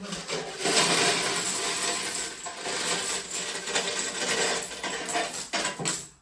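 A pile of coins, including five-unit pieces, is poured out and handled for counting, with dense continuous metallic jingling and clinking that stays loud and close throughout, without speech.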